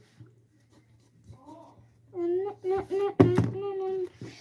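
A pencil drawing on paper gives faint, close scratching strokes that are soft and sparse at first, then a voice begins talking over them along with a few bumps.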